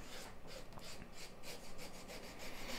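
Continuous rhythmic rasping strokes of 600-grit sandpaper worked over a leather belt, steady and fairly quiet with no voices.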